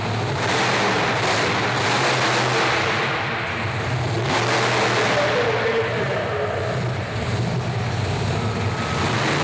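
The Tailgator monster truck's engine roars steadily at a Monster Truck Nationals event in Corbin, Kentucky, heard close from inside the cab as the driver works the pedals, a loud continuous drone with wind-like rush.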